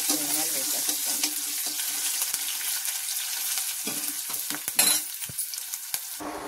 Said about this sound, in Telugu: తాలింపు వేసేసాను, ఉల్లిపాయలు కూడా వేసేసాను.